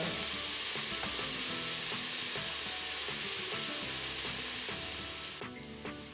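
Onions fry in a pan for a beef and spinach curry, giving a steady close sizzle with a constant hiss that fades slightly near the end, with no speech.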